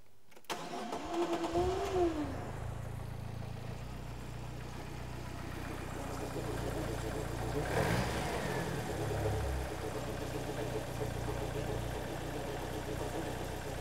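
A Ford Escort RS Turbo engine, which runs rough and weak, starts up and settles into a steady mid-pitched idle heard close by, with a brief rise in revs near the middle and no talking.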